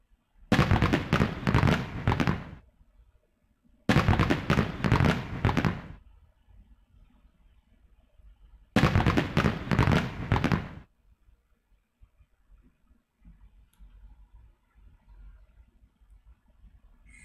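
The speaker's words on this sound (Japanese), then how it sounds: "もうすぐ花火が始まるな" Three long, loud bursts of crackling, booming fireworks in the video game Tokimeki Memorial Girl's Side 3, each lasting about two seconds with short gaps between them, followed by a quiet hum.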